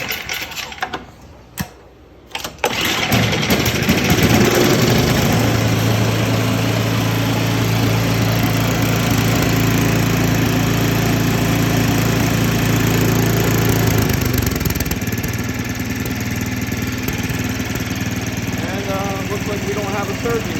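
A small snow blower engine, repaired after a surging problem, starts after a few brief knocks, then runs loud and steady with a constant drone and no surging.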